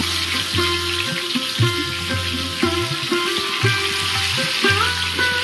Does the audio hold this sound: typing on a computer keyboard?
no